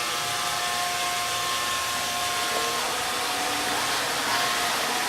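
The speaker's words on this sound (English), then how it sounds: "I'll turn on the vacuum motor again" An Alfawise A6 robot vacuum runs its vacuum motor, a steady, loud, close whirring hum with a faint whine, unchanging and alone.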